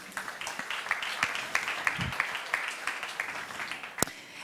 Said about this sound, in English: Big applause for all of you.